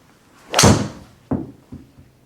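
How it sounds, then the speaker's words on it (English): A golf wood club strikes a ball on a simulator with one loud, close, sharp thwack, followed by two softer knocks as things settle. "Hit a couple of wood shots."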